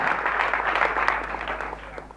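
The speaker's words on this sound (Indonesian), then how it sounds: "Tepuk tangan buat dia." A congregation at a church service applauds, a steady dense wash of many hands clapping that holds throughout and slowly fades toward the end.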